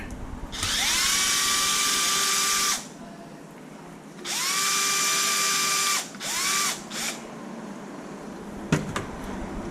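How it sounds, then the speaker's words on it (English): A power drill backs screws out of the control arms of a Traxxas Maxx 4S RC car in three loud whirring bursts, each winding up and holding steady. A few short clicks and taps from the handling follow close by. "I'm gonna remove the screws on these control arms"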